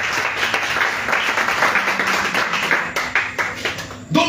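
A church congregation claps together in praise, a dense continuous patter of many hands, fairly close, with faint voices mixed underneath.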